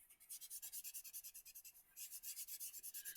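A piece of foam is rubbed over paper to work dark green colour into a background, a quiet, rhythmic scratchy back-and-forth with a short pause midway.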